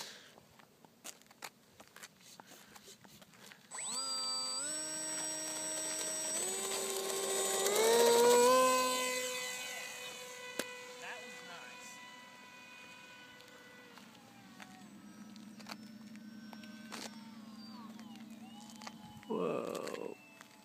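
A Bixler RC model airplane fitted with retrofit landing gear whines up from idle, its electric motor pitch rising and swelling as it rolls and takes off, then easing into a steady drone, with scattered clicks and brief voices around it.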